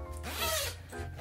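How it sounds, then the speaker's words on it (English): A zipper on a lined, home-sewn fabric tote bag is drawn in a single quick pull lasting about a second, close and clear, with a brief rasp at the end as it finishes. "This one has a zipper"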